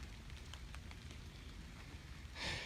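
Steady rain falls on a rainy day during work on a Bronco rebuild, a faint, even patter with no talking.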